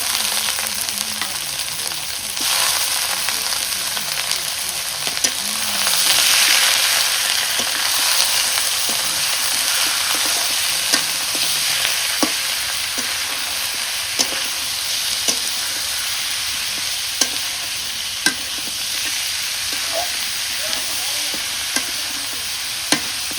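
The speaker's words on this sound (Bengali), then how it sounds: "তেলের মধ্যে গোস্ত আগে ভেজে নিই।" Pieces of meat fry in hot oil with a loud, continuous sizzle. Sharp scrapes and taps from stirring recur at irregular intervals, with no voices.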